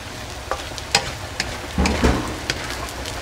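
Shrimp fry in a pan with a continuous soft sizzle, broken by several sharp clacks and scrapes of stirring, close up and with no talking.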